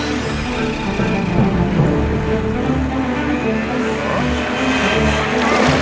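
Cartoon motorboat engine in a race, a steady loud droning roar that holds throughout without letting up, with no talk over it.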